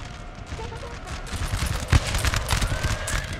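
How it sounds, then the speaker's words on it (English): Musket volleys crackle through a Napoleonic-era battle in Napoleon Total War, with dense ragged bursts of fire building over a few seconds. One sharper report stands out among the volleys, with possible voices faintly underneath. "now we have the musket battle"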